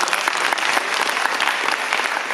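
Audience clapping at a talk, a sustained burst of many hands applauding together, bright and even throughout.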